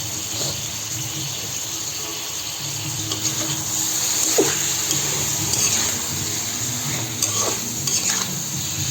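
Mixed freshwater fish being stirred and fried in a spice paste in a pan, with a steady loud sizzle under repeated scraping and clattering stir strokes, no talking.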